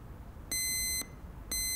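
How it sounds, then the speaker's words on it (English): An alarm bell in the horror game Lorelai goes off in two loud bursts of bright, ringing tone, each about half a second long and half a second apart, over a low background hum. "It's the bell alarm. Someone just pressed it by mistake."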